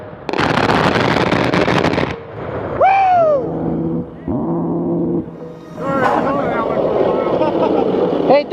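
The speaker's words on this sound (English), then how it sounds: "You hear it first when it fires, and then you hear it echo from the gun in the sky." An A-10 Thunderbolt cannon fires one long, loud, tearing burst of about two seconds, followed by rolling echoes and whooping, cheering voices and excited talk.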